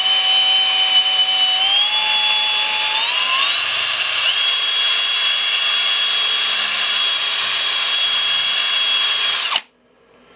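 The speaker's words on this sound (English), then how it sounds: "Does a good job at buffing it." A power buffer polishes the leather of a Nike Air Force 1 sneaker with a loud, steady high whine that climbs in pitch in a couple of steps, then cuts off abruptly, leaving near silence.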